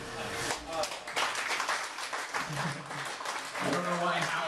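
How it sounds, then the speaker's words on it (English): A comedy show audience breaks into applause, a dense wash of clapping that runs throughout, with a voice talking over it and a brief bit of crowd noise toward the end. "I don't know why half of you just clapped"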